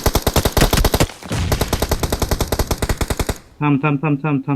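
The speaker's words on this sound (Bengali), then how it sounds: "পিছে আসাদ ফায়ার দে" Rapid automatic gunfire from the PUBG Miramar map during a scrim match rattles in loud, evenly spaced bursts with a brief pause, then a voice speaks over the final moments.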